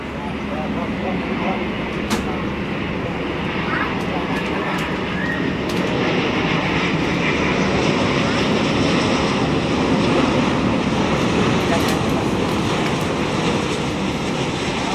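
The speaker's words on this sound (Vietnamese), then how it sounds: "mời mọi người chiêm ngưỡng pha hạ cánh của dòng máy bay Airbus A350-900 của Cathay Pacific" A Cathay Pacific Airbus A350-900 landing, a steady broad jet roar and rushing rumble sustained throughout at a moderate distance, with a voice talking over it.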